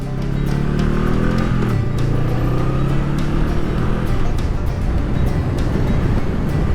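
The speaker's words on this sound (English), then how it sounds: "There's a truck coming." A truck passes on a twisting Arizona mountain road, its engine rumble swelling and shifting pitch under the steady roar of a Honda Rebel 500 motorcycle and wind noise, heard close and loud with no talk.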